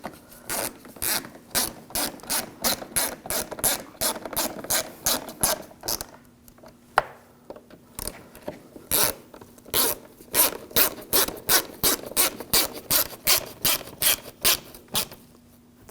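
Hand ratchet tightening fog light assembly bolts on a 2006-2009 Audi S4, with rapid, close, crisp clicking in repeated bursts and a brief pause midway.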